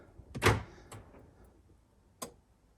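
Central locking door actuators on a Kia Venga, with the rear left door suspected of failing, firing as the lock switch is pressed: a sharp mechanical clunk followed by a fainter click, then a second clunk about two seconds later, close and alone.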